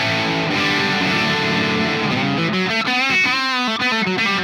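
Laney Ironheart Foundry Loudpedal on channel 2 with the bright switch engaged, giving a loud high-gain electric guitar riff of driving chugs that move into choppy palm-muted stabs and ringing notes.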